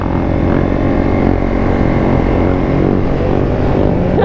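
Two-stroke dirt bike engine running continuously, a dense, loud buzzing drone that stays steady and close throughout without pauses or voices.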